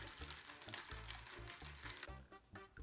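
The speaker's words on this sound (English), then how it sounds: "Give it a stir." A vodka cola cocktail with triple sec gets stirred over ice in a glass, quick rhythmic clinks and rattles of ice and spoon, fairly quiet and close.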